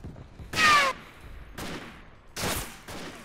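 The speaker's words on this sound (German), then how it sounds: "Ach komm, das war noch ein super Schuss." Rifle shots in the WWI shooter Verdun during a rifle deathmatch on the Vauquois map, three sharp, loud cracks spaced about a second apart, each with a brief echoing tail, over quiet battlefield ambience.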